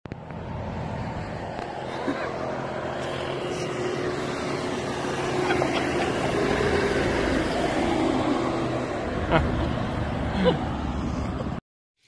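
A 79cc scooter engine on a short test ride, a steady droning motor hum with wind rush that holds fairly loud and even throughout, then cuts off abruptly at the end.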